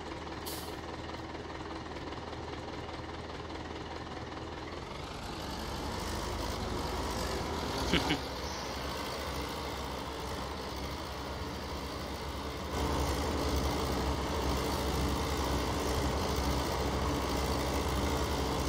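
A rented tractor in Farming Simulator 2019 runs with a steady, droning engine rumble that continues without a break. It grows slightly louder partway through, with a brief clank.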